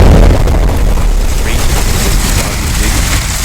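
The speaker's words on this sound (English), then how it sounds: "you can actually throw Molotovs on landmines to make them explode" Landmine set off by a thrown Molotov in the game Asylum Life, a loud close boom that opens the clip and then rolls into a long noisy rumble and hiss.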